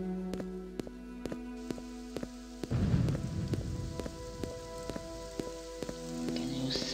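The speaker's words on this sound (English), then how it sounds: "Can you smell the storm? Or can you merely hear it?" Steady rain from a storm in the video game Morrowind, with a louder gust of rain or distant thunder midway, heard alone over a constant backdrop with faint ticks.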